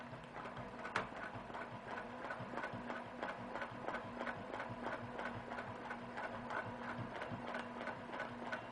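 Sewing machine stitching a quilt block, a quiet steady mechanical hum with fast even needle clatter running throughout, faint and without voices.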